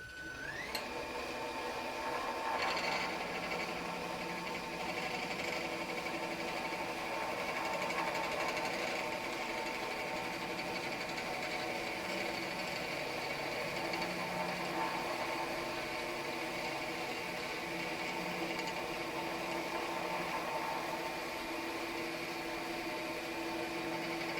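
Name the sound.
chisel cutting wood on a lathe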